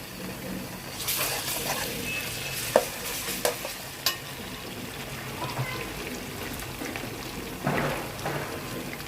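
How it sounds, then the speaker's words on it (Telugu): Ginger garlic paste frying with sautéed onions in hot oil for a crab curry, a steady sizzle broken by a few sharp stirring clatters of the spoon against the pan, close and moderately loud with no talking. "ఇప్పుడు అల్లం వెల్లుల్లి పేస్ట్ వేస్తున్నాను"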